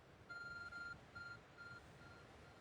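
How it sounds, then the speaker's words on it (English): Arc Phone in the Pokémon Legends: Arceus video game beeping: a faint electronic tone pulsing in a few short bursts over quiet background, no voices. "Your art phone is beeping."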